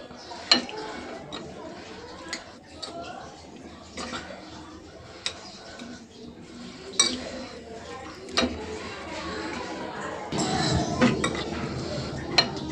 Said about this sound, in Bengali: ভালো করে মেখে নিব